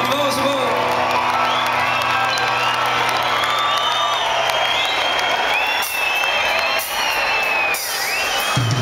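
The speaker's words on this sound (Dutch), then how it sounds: "dames en heren, geef hem een groot applaus" An audience applauds and cheers for a grand-piano player at a Festyland concert with a singer and band, a loud, dense wash of clapping with scattered whoops that runs the whole time.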